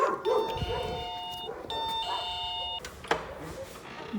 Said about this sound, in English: This dog does not want us going to the hotel.